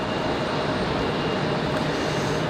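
A Republic Airways Embraer E175 jet at Raleigh-Durham International Airport, its engines a steady, broad rushing roar heard from a distance with no clear rise or fall.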